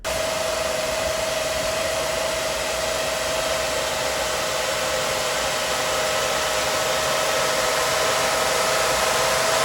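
A loud, steady mechanical roar of cooling fans from an ASIC crypto mining rig, with a constant high whine running through it, unbroken for the whole stretch.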